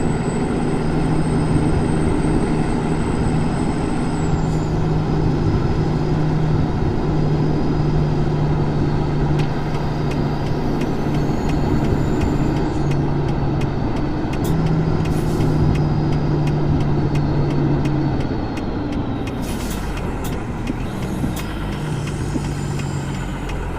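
A truck engine drones steadily as it climbs a hill in a video game, a loud, continuous rumble with a whining tone and occasional shifts in pitch, no voices.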